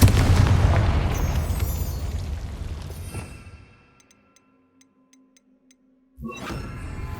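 A Confringo blasting spell explodes in Hogwarts Legacy with a loud, broad boom that rolls and fades over about four seconds, then a short stretch of near silence with faint ticks before another sharp burst hits.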